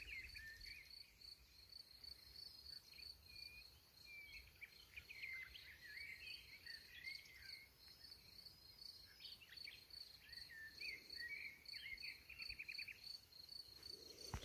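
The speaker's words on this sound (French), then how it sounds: "Écoutez les grillons." Crickets in the French countryside chirp in a steady, high trill, faint and distant, with scattered bird calls mixed in and a light breeze.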